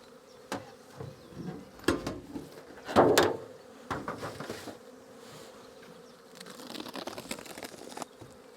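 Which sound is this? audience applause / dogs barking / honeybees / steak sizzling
honeybees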